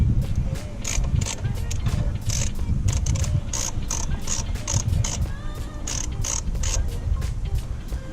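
Ratcheting clicks and mechanical creaks come from a screw being worked loose on the MAP sensor of a car's air intake during a cold air intake install. Steady close-up rattling of the tool runs throughout, with a background hum.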